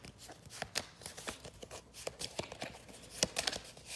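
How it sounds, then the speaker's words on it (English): Cards are shuffled during a solo board game, a quick run of crisp riffling and snapping bursts, close and fairly quiet, with no talking. "let me shuffle"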